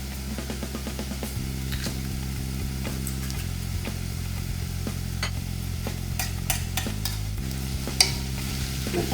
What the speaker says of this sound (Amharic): ሽንኩርታችን በደንብ ይጠበስ። ሽንኩርቴ እየተጠበሰ ነጭ ሽንኩርት አለኝ።